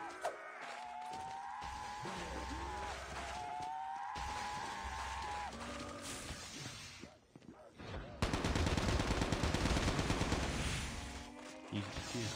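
Gunfire in Call of Duty Mobile zombies mode starts as scattered shots under a person's voice and game sounds, then breaks into a loud, dense rapid burst lasting several seconds.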